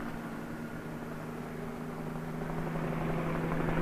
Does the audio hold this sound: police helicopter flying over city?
yes